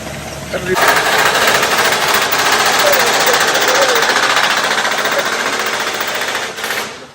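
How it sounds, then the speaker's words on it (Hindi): A riveting machine hammers close by in a loud, dense, rapid rattle that runs almost without a break for about six seconds, with voices faintly underneath. "रिवेटिंग की"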